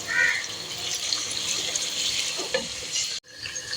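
Onions browning in a pan for potato pulao give a steady, close sizzle that carries on evenly before cutting off abruptly near the end.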